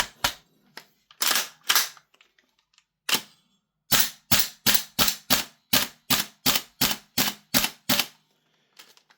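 A gas airsoft rifle fed from a Double Eagle magazine fires a few single shots, then a quick run of about a dozen evenly spaced, sharp cracks, close and crisp with silence between.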